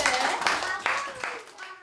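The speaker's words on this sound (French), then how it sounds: "On peut s'applaudir." A small group of participants at a thinking-games workshop claps for themselves, with brief uneven clapping under overlapping talk and a voice.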